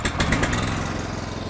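A zero-turn snowplow's small engine runs steadily just after starting, a loud, rough, continuous idle with a buzzing putter and no voices.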